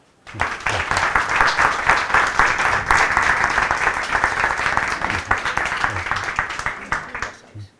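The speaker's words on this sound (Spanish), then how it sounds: "te recibimos con un aplauso." A crowd breaks into sustained applause, loud and steady with many hands clapping at once, continuing for several seconds before tapering off.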